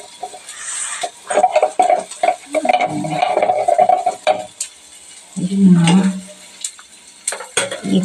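A spoon stirs and scrapes hardened jaggery melting in a pan, close and loud, with irregular clattering knocks, soft sizzling and occasional metallic clinks.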